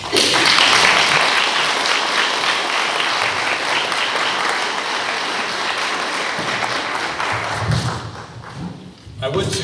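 Loud, sustained applause fills a public town meeting in Cornwall, Connecticut, on a septic vote, a dense roar of many hands clapping close by that fades and thins toward the end.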